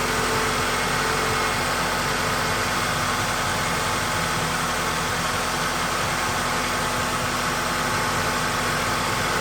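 Toyota engine idling steadily after a coil pack and spark plug change, a continuous mid-pitched hum with broadband hiss and no breaks, close and even throughout.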